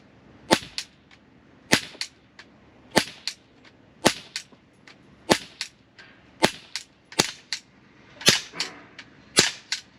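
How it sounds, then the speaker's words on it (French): An Umarex Glock 17 Gen 5 4.5mm CO2 BB pistol fires repeatedly, sharp snapping shots roughly one per second, each quickly followed by a fainter click, close and clear with no talking. "je pense que je tire dans le vide pour l'instant"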